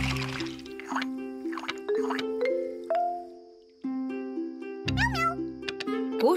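Cartoon cat meows from a children's animated series, several short high mewing calls over a soft melodic toy-like musical backing, with light dripping and plopping effects between them.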